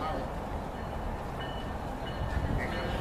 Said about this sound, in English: We got a northbound travel arriving into Deerfield Beach Station with a rolling consist and a BL unit.